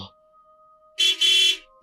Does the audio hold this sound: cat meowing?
no